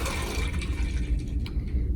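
Tap water streams into a pitcher in a continuous, close gurgling pour lasting about two seconds, with no talking over it.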